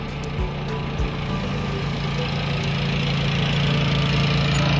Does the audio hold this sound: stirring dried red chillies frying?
no